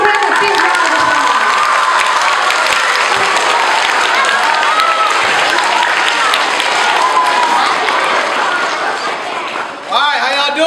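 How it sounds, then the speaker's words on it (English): A school assembly audience applauds a Harlem Globetrotters player, producing loud, dense clapping and crowd noise that fills the hall steadily and tapers off at the end. "Let's give him a big round of applause."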